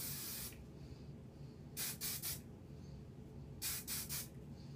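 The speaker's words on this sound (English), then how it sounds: "Now we take our hairspray and spray it" An aerosol can of hairspray is sprayed onto hair in two quick sets of three short hissing bursts, close and fairly quiet, over a faint background hiss.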